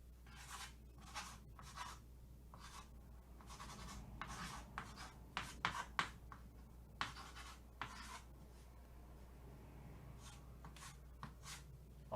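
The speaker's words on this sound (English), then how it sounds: "notice I'm gonna write some of the lyrics on that board" Marker or chalk strokes on a board as song lyrics are written out: a long run of short scratchy scrapes and squeaks in irregular bursts, close and clear over a faint low hum.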